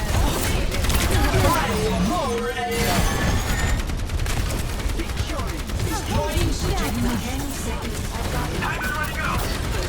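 Gunfire from the video game Overwatch 2, played as Kiriko, with rapid shots and bursts running through a dense, busy mix of game effects, while a voice talks over the action.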